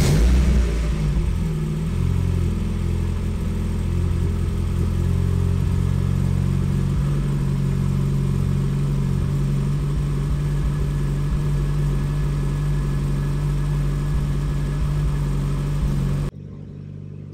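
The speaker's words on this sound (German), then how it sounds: "dann starten wir den Motor, damit die Wasserpumpe sich das alles dann schön reinzieht" A car engine idles steadily while running the water pump during a cooling-system flush, a close, even low rumble with a slight dip early on and no talk, ending abruptly.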